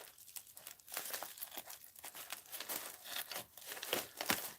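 Mail package being cut open, soft close crinkling and tearing of wrapping in quick irregular bursts with brief pauses, quiet and alone without talking.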